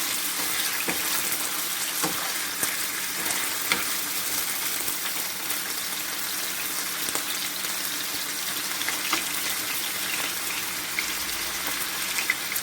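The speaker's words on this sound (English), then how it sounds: "I'll tip in my prawns. My king prawn will go in there." King prawns fry in a paella pan alongside chicken, a loud, dense, steady sizzle filling the whole stretch with scattered sharp pops and no talking.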